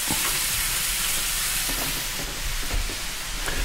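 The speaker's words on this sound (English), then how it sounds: "because beef is very oily. It creates its own oil. So we're going to let that brown while I clean up" Ground beef browning in its own rendered fat in a hot pan, a steady broad sizzle that holds evenly throughout with a few faint kitchen knocks and no talking.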